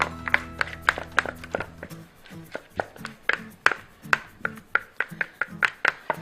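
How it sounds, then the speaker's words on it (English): A spatula scrapes banana bread batter from a bowl into a baking pan, making a quick series of close, sharp taps and soft scrapes with no talk. "To make sure I get all my mixture in, I'll use a spatula."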